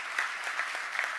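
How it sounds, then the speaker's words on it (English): An audience at a graduation ceremony claps steadily in dense, even applause, moderately distant and sustained with no voices over it. "So let's give the CEO a round of applause."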